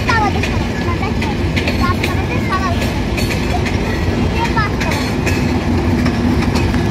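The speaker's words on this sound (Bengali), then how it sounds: "এই যে ট্রেনটা যাচ্ছে আর ওই যে সামনে ওই যে স্টেশনে ঢুকছে ট্রেনটা" A passenger train rolls past on a railway line toward a station, a loud steady rumble with rhythmic clickety-clack of wheels and scattered squeals throughout, with voices talking over it.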